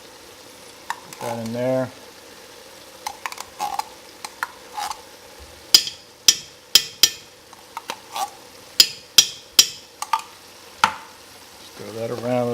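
A spoon works tomato paste into Granny's spaghetti sauce in a pot, giving a run of sharp scraping and stirring strokes at close range with a hot sizzle underneath. Someone talks briefly at the start and the end.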